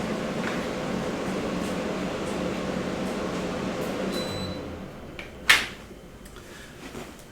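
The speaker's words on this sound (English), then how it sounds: "My air conditioner just kicked on, and I'm going to turn it off." A home air conditioner hums steadily and fairly loud for about four seconds, then the drone drops away as it is switched off, followed by a sharp click or knock and quieter room tone.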